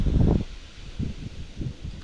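Gusts of strong wind on an outdoor fishing trip rush and rustle against the microphone in loud bursts, with quieter breathy stretches between them.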